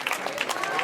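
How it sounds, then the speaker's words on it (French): A crowd at the final Tour de Romandie awards ceremony briefly applauds the week's most combative rider, a quick burst of clapping with a voice over it. "on applaudit bien fort le plus combatif de cette semaine, Sander Armé."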